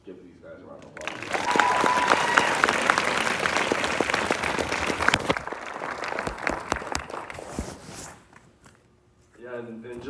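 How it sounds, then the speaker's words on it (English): A crowd at a Q&A after a BROCKHAMPTON film screening gives a round of applause: dense, steady clapping that lasts several seconds and then thins out before a voice starts talking at the end. "I think we should give these guys a round of applause"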